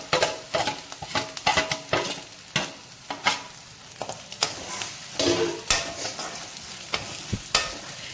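A spice tempering with dried red chillies sizzles and fries in a pan for a carrot and coconut curry, with a spoon scraping and stirring in repeated close, sharp strokes.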